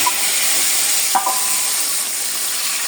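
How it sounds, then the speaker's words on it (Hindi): Browned garlic tempering poured into cooking lentils for baghari chana dal, giving a steady, even sizzle and hiss with a couple of faint clinks, close and continuous. "अब हम इसको दाल में डाल देते हैं।"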